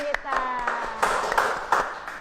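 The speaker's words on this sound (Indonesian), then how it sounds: "Beri tepuk tangan dulu dong buat bintang tamu kita" A small group claps for a guest star for a couple of seconds, uneven hand claps mixed with a sustained tone and some voice underneath.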